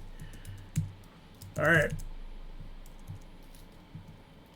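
A handful of scattered taps on a computer keyboard come through sparsely, with a short spoken phrase briefly breaking in between the keystrokes.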